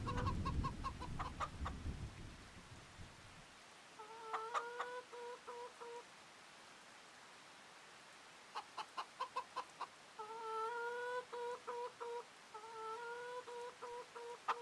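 Chickens clucking in a farming sim video game, short bursts of repeated clucks in several groups with pauses between them, clear and close over a quiet background.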